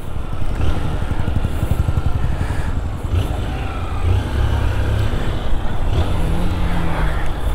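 A motorcycle engine drones loudly and steadily while riding, with wind rumble and slight shifts in revs throughout.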